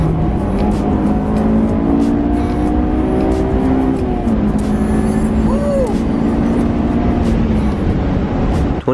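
Honda S2000 pulling hard onto a freeway, its engine note climbing through the gears in a loud, steady drone with rising and falling tones, wind and road roar underneath, close and continuous.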